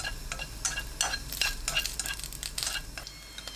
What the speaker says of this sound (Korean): 달구지 않은 팬에 식용유 2큰술, 목이버섯 넣고 센 불로 1분 30초 볶아주세요